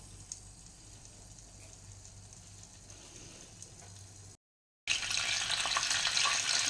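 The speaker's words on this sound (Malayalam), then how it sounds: "എണ്ണ നന്നായി ചൂടാകുമ്പോൾ അതിലേക്ക് കടുകിട്ട് പൊട്ടിക്കാവുന്നതാണ്." Mustard seeds crackle and pop in hot oil in a clay pot as a Kerala fish curry begins. A steady close sizzle plays alone, breaks for a moment of silence, then returns louder and harsher.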